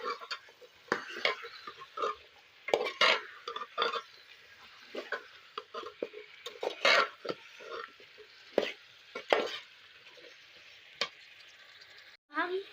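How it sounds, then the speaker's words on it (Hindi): Potatoes and minced meat keema are stirred in a pot: irregular scraping and shuffling strokes close by, with a soft sizzle underneath and brief quiet gaps. "और हिलाएंगे।"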